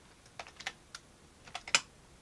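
A handful of quick, sharp keystrokes tapped on a computer keyboard, close and clear, with short pauses between bursts and a quiet background.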